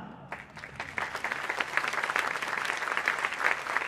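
A gymnasium crowd at a marching band championship claps in a practice round, a soft start swelling into dense, sustained applause that keeps building to the end.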